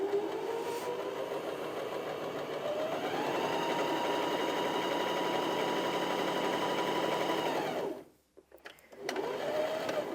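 A Janome HD2200 sewing machine runs a straight stitch in one continuous, steady whir that picks up speed early on, then cuts out briefly before resuming near the end.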